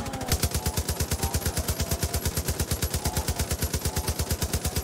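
Rapid automatic gunfire in Far Cry New Dawn, a long unbroken burst of evenly spaced sharp shots, loud and close, with no talk over it.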